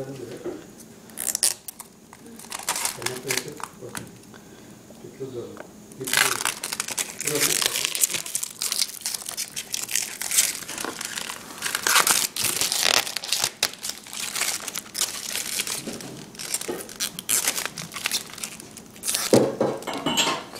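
Protective plastic film is peeled and crinkled off a new Toshiba Thrive tablet, giving bursts of close crackling and tearing that run through most of the stretch after a quieter opening.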